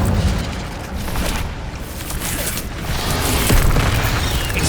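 Incendio fire spell blasting in Hogwarts Legacy, a loud, continuous roaring burst of flame with dense rumbling low end that holds steady and swells slightly toward the end.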